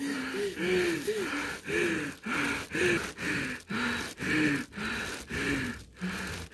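A woman hyperventilates while breathing into a plastic bag, with about a dozen rapid, rhythmic gasping breaths and voiced whimpers, close and loud.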